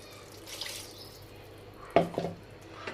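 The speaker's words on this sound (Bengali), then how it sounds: "আর এই যে মশলা ধোয়া বাটি জলটা দিয়ে দেবো" Water from rinsing a spice bowl poured into a cooking pan: a brief splash and trickle close by, rising after a quiet stretch of faint kitchen background.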